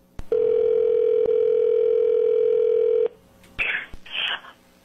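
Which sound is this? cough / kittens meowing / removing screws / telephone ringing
telephone ringing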